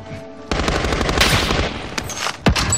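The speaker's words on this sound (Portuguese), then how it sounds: "tá acertando o tiro em nós" Gunfire in the video game Call of Duty Warzone, rapid machine-gun bursts and sharp single shots crackling close and loud over about two seconds.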